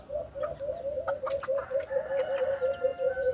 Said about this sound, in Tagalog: At tumitilaok na to kahit maliit pa tumitilaok na.